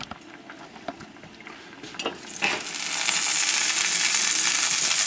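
Gluten-free pancakes sizzle in a pan, starting as quiet crackling that swells after a few seconds into a steady, loud, close hiss of frying.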